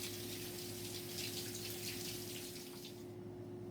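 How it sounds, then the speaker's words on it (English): Tap water runs steadily into a sink while ginger and chili are washed under it, a continuous close splashing stream that stops near the end. "Wash ginger and chili."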